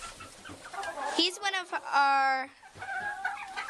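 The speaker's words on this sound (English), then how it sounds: "He is a gallo, or a rooster. He's also a bantam, because as you can see, he's a little bit tiny." A small bantam rooster named Coco gives a few loud, close clucks and a brief squawk on a farm, with a person talking before and after.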